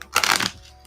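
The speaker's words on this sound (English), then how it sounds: "I need to shuffle these again" A deck of tarot cards is shuffled once, a quick close riffle burst lasting under half a second, alone without talk.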